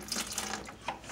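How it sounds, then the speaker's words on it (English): Water poured into a bucket during a tile-mortar mixing job, a brief close splashing, trickling flow that runs steadily for about a second. "I just put a little bit of water in the bucket I'm pouring it in."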